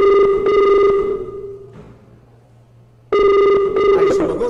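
An outgoing call rings on a phone with a buzzy electronic tone in two long bursts separated by a quiet gap, loud and close, with a short noisy clatter at the end.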